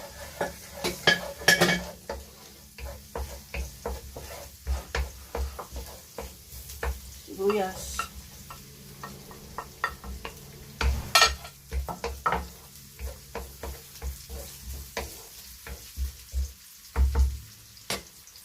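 Onion and garlic sauté in annatto oil for pancit Malabon, a continuous close sizzle punctuated by rapid, rhythmic spatula scrapes and knocks against the pan, with brief faint voice moments.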